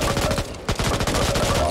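An MP5 submachine gun fitted with an EOTech sight fires in a rapid, continuous automatic burst in the Back 4 Blood zombie shooter game, loud and close, with a very brief pause partway through.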